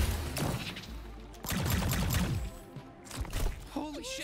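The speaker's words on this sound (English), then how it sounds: "Come on, shoot some slime out of my trick hole." A slime-shooting gun firing in the video game High on Life, heard as dense bursts of wet, crackling blasts with heavy low rumble, loud and close, while a voice talks over part of it.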